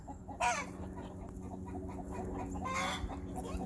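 Several chickens cluck and squawk in alarm at something flying low overhead, over steady outdoor background noise, with a couple of louder calls standing out.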